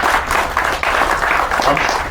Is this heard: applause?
yes